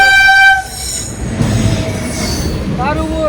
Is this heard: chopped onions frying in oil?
no